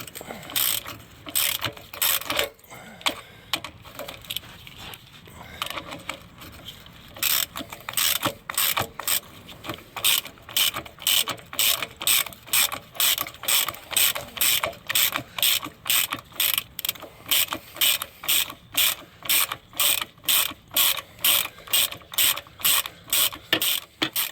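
A ratchet wrench turns a 14 mm bolt on the oil pan of a 2008 Suzuki Forenza, giving close, crisp clicking in fast, even bursts that grow steady and rhythmic toward the end.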